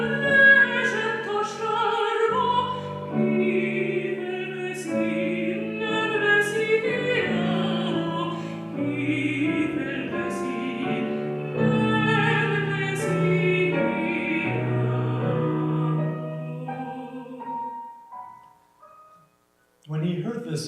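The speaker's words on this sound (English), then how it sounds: "he made an arrangement for soprano and piano" Soprano voice with piano performing Bartók's arrangement of the Hungarian song Piros Alma, a continuous melodic line over steady piano chords for nearly the whole clip, ending with a brief pause and a final note.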